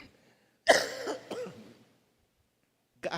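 A person coughs in a short burst of two or three harsh coughs at the start, then falls quiet before another brief cough begins at the end, close and clear during a worship service.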